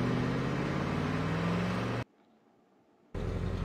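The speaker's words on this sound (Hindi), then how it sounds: "फाइनली गाड़ी स्टार्ट हो चुकी है" Car engine starting and running in the Ice Scream Chapter 3 video game, a steady droning motor hum that cuts out abruptly to near silence for about a second, then resumes at the same level.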